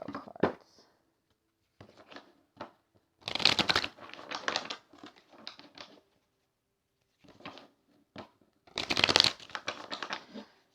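Tarot cards shuffled in separate close bursts, two loud riffles standing out among softer flicks and taps, with quiet gaps in between.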